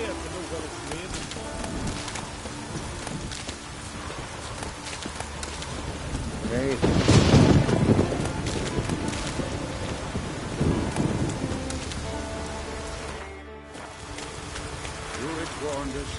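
Rain and a rolling thunderstorm in The Witcher 3: Wild Hunt, steady rainfall with a swelling thunder rumble midway, mixed with game music and ambient sounds.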